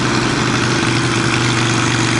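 A Harley-Davidson Sportster Iron 883 motorcycle engine idles close by, a steady loud throbbing rumble with an even pulse throughout and no voices.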